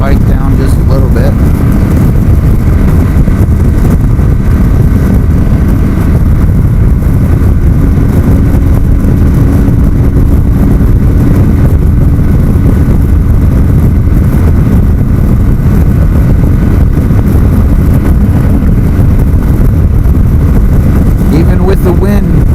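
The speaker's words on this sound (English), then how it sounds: "There's a lot of wind right now." Strong headwind roars over the windscreen of a Kawasaki Vulcan 900 motorcycle cruising at just over 80, a steady, loud low rumble of rushing air and road noise throughout, with someone talking over it.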